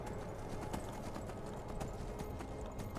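Horse hooves clip-clop in a steady rhythm as a mount climbs around mountains in the Skyrim video game, close and clear with no voice over them.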